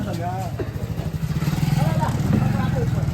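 A motorcycle engine chugs in a steady, throbbing rhythm nearby while people talk over it.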